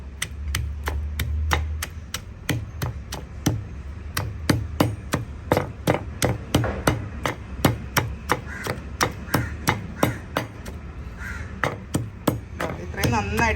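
A stone pestle pounds chillies and curry leaves for a dried anchovy chammanthi in a steady run of loud, close thuds, about two to three per second, each with a short crunchy knock.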